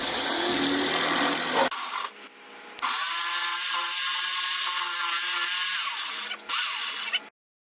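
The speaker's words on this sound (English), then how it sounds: "I am just going to basically cut the relief into the back" A power saw cuts a relief channel into the back of a wooden piece with a loud, continuous rasping whine. It stops briefly, runs again for several seconds, then cuts off abruptly.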